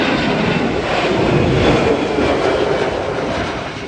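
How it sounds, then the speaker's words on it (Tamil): A US Air Force jet takes off at an air show, a loud, steady broadband engine roar that fills the whole stretch and eases slightly toward the end as it moves away. "ஸோ டேக் ஆஃப் வந்து ஆக ஆரம்பிச்சிருச்சு."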